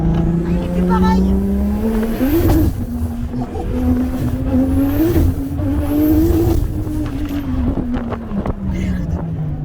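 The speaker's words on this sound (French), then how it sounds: "Je crois qu'on a démanchonné l'échappement." A heavily modified 1200 hp Golf R32 with its exhaust come loose at the V-band clamp, droning and rising under load with rough blats, loud and close, with people talking over it.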